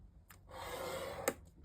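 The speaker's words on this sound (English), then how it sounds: "I'm going to take a score tool and score at 1 1/8" Score tool drawn along a sheet of paper or cardstock for a craft treat holder, a short, soft scraping stroke lasting under a second, with a couple of light taps and clicks around it, quiet and close.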